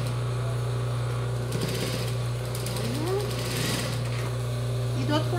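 An overlock sewing machine stitching a seam on a child's jumpsuit gives a steady, fast mechanical whir that runs unbroken throughout, close up, while someone talks over it.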